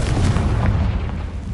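A Confringo blasting spell explodes in a Hogwarts wizarding video game, a sustained heavy boom with rumbling low-end roar filling the whole moment, loud and close with no talk.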